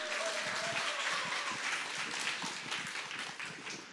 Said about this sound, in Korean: 큰 박수 주세요.